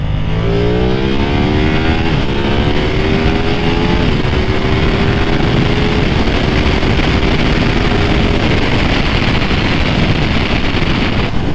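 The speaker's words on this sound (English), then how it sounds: "I'm gonna do just a quick pull from second gear just to see how it feels." A Ducati Streetfighter V2 motorcycle pulls hard from second gear in sport mode, its engine note climbing steadily under heavy wind roar close to the microphone, loud and continuous with no talking.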